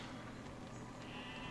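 A sheep in the game Besiege bleats faintly, a single quiet wavering cry low in the mix.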